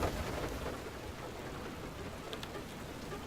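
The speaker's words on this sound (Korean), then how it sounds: "이게 우박이 내려서 데미지를 크게 입네" Hailstorm in the video game FAR: Lone Sails: a dense, steady patter and hiss of falling hail with a low rumble beneath, constant and moderately loud for the whole stretch, with no voices.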